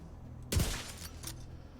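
Gunfire in The Division 2 video game: a sharp burst of shots erupts after a quiet moment, followed by a few lighter echoing pops, fairly close and punchy.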